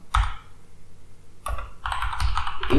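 Typing on a computer keyboard, a short burst of close keystrokes, a lone tap, then a quicker cluster of clicks toward the end.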